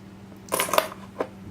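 New Zealand pre-decimal coins such as a half crown clink together briefly as they are handled, a couple of close metallic taps followed by one more light clink.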